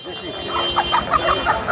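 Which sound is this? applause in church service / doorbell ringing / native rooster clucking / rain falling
native rooster clucking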